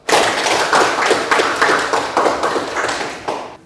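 Classroom children clap their hands together in a loud, close, steady patter of overlapping claps that continues for several seconds before stopping abruptly.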